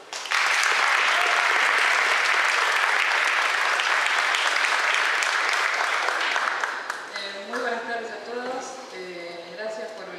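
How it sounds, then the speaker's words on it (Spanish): An audience at a literary reading event breaks into loud, dense applause that holds steady for several seconds, then fades as a voice begins speaking. "Un aplauso."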